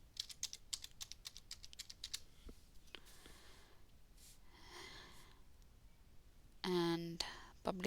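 Quick, crisp clicks of a computer keyboard as a password is typed, a steady burst of closely spaced keystrokes up front, then a few scattered taps with a voice speaking near the end.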